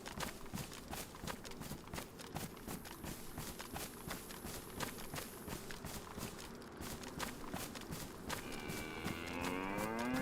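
Cow mooing in the video game DayZ on the Chernarus map, a long loud low moo over steady clip-clop footsteps, with a second drawn-out call rising near the end.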